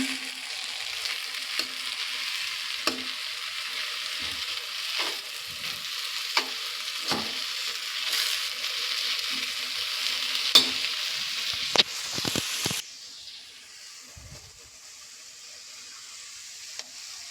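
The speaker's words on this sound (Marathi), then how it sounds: "हे सगळं खोबरं मी टाकते. आता आपण व्यवस्थित मिक्स करून घ्यायचं आहे ना." Red amaranth greens and grated coconut fry in a pan, Konkan style, with a bright steady sizzle and repeated spatula scrapes and taps. The sizzle drops away near the end, leaving a quieter hiss and a final clink.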